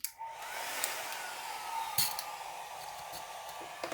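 A hair dryer blows steadily and close over an alcohol ink flower painting, its constant whooshing drone running throughout with a couple of faint clinks.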